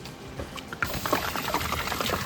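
Water pours steadily into a pot for biryani rice, a continuous splashing trickle that grows slightly louder partway through, close by with no talking.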